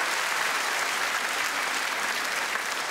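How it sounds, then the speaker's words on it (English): A live comedy crowd gives a sustained round of applause, even and full from start to finish, with no speech on top. "Round of applause for the lovely fella."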